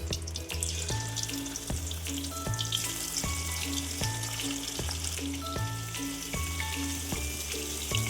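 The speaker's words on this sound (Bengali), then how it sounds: "দেখো আমি কড়াতে তেলটা দিয়ে দিচ্ছি, তেলটা গরম হয়ে গেছে। এখন আমি মাছটা দিয়ে নেব।" Fish hitting hot oil in a wok, a soft steady sizzle and crackle running under a repeating musical pattern with rhythmic low beats throughout, no speech.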